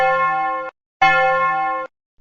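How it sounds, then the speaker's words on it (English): A bell is struck twice, each time giving a bright, sustained metallic ring that cuts off sharply, with a short silent pause between the two strikes. "Let's take a bell and ring it."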